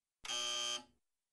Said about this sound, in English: When you hear the buzzer, move to the left.